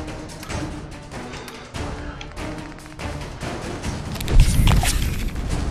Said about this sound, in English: Ada, learn to shoot. You're shooting everywhere right now.